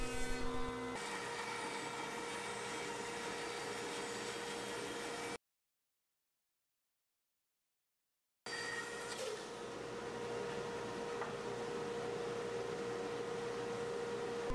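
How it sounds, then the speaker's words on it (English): Bandsaw resawing thin 3/16-inch strips from a thick walnut board, a steady loud machine drone with constant whine running throughout, briefly cut off by a silent gap midway before resuming. "I joint one face and one edge before resawing the strips at the bandsaw"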